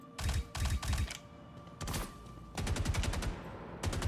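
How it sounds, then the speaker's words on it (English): Video-game gunfire sounds in rapid, loud automatic bursts, several separate volleys of fast repeated shots close up over about four seconds. "Oh, that guy's shooting."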